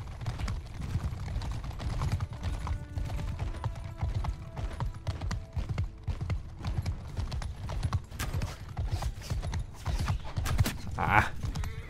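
Horse hooves clip-clop and gallop steadily through a Mount & Blade II: Bannerlord battle, a dense rhythmic thudding with occasional whinnies, close and continuous across the scene.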